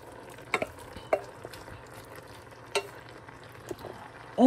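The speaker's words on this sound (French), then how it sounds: "On va mélanger le tout dans la première préparation, là, de légumes, de crème fraîche et de bouillon de légumes." Rotini pasta is stirred into a sauce of vegetables, crème fraîche and vegetable broth, with scattered wet scrapes and soft clunks of the spoon over a quiet simmering hiss.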